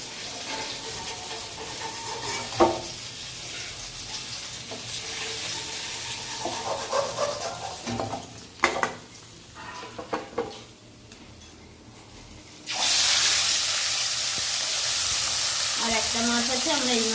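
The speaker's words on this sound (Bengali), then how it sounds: "আর একটা মাছ আছে, আমরা এই মাছটাকেও ভেজে নেব।" Foloi fish frying in a pan gives a low sizzle broken by scraping and stirring clatter, then a loud steady hiss of fresh fish hitting the hot oil for the last few seconds.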